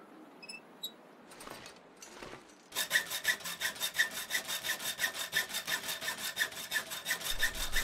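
Wood is sawn in The Long Dark video game, a close, loud run of rhythmic back-and-forth saw strokes after a few faint knocks and scrapes, with no talk.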